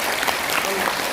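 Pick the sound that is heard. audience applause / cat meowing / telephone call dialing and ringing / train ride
audience applause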